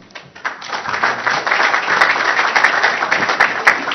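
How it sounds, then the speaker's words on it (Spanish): Audience at an urban policy congress in Barcelona claps steadily, the applause swelling quickly after a soft start and holding at a dense, even level. "Les pido un aplauso para él"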